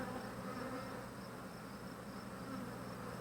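Honey bees buzzing around an open Flow Hive during an inspection, a steady dense drone close by and fairly quiet, continuous with no voices.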